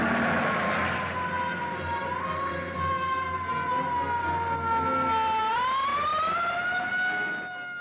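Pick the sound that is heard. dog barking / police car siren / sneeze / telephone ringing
police car siren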